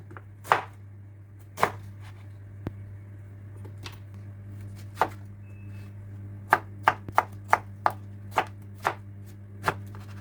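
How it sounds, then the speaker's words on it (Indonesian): A knife chops pineapple into small pieces on a cutting board, with about fifteen sharp, irregular knocks, some spaced apart and others in quick bursts, over a low steady hum of a fan. "Jadi kita potong kecil-kecil"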